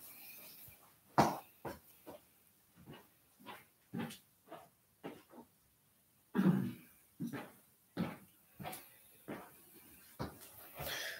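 A series of short, sharp coughs and throat clearings, irregularly spaced with quiet gaps between them, close to the microphone.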